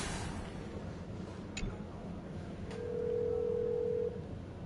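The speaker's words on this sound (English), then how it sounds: "There's no way that phone makes that noise." Phone dialing tone from a telephone in the video game Honkai Star Rail: a steady electronic tone holds for about a second amid quiet ambient game background, with a couple of faint clicks earlier.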